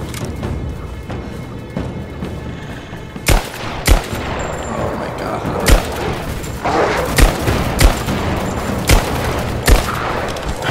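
Repeated gunshots in the PS4 Pro game Rise of the Tomb Raider, sharp loud cracks at irregular intervals over a dense, rumbling game soundscape.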